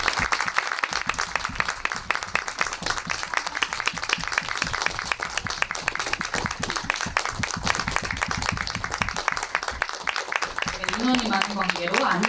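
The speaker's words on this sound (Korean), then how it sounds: "저희 큰 박수로 한번 맞이해 보겠습니다" A theater audience claps steadily for the whole stretch, welcoming a film director and four actors on stage for an opening-day screening Q&A; the dense, even applause carries throughout, with voices talking over it near the end.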